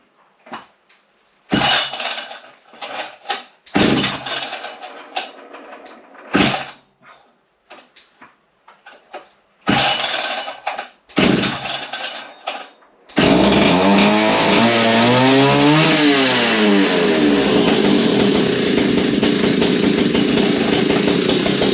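A vintage Italian Alpina 070 two-stroke petrol chainsaw is pulled several times in short separate bursts. The engine then catches and runs loud and continuous, with rising and falling revs.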